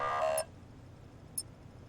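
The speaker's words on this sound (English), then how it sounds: "What's beeping at me?" A short electronic beeping from an in-game device in the video game Maize, a bright tonal burst of stacked tones lasting under half a second, followed by a faint brief chirp against a quiet background.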